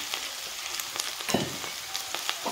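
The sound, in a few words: boiled potato pieces frying with onion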